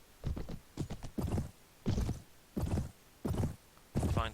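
Horse hooves clopping in the Mount & Blade game (Prophesy of Pendor mod), arriving as a series of separate, fairly loud hoofbeat bursts in a loose, uneven gallop rhythm, with no talk over them.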